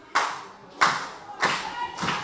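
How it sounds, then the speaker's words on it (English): A wrestling crowd at an MFPW show in Paulsboro breaks into bursts of clapping and cheering, with four loud surges about every half second to second, each decaying into a noisy murmur. "you can hear this crowd starting to come alive here in Paulsboro"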